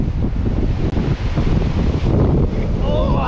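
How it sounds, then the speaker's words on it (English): Strong wind batters the microphone of a helmet camera on a rider outdoors on a track, a heavy, rumbling roar that stays loud throughout, with a short dropout near the start. "It's windy, very windy."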